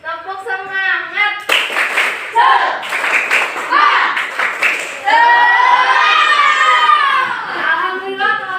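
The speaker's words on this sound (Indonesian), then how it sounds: "Yuk kita semuanya sama-sama tepuk semangat yuk" Schoolchildren in a classroom clap the rhythmic tepuk semangat spirit clap in short patterned bursts of close, sharp hand claps, mixed with their chanting voices and a teacher's voice.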